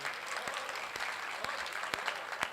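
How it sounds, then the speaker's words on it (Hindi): An audience at a Hindi poetry recital claps in steady applause, a dense crackle of many hands with a few louder claps standing out, moderately distant. "तालियां बजाइए।"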